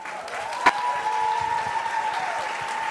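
Steady applause from an audience at a school playback show, a dense wash of clapping that continues throughout, with a tonal whine running underneath.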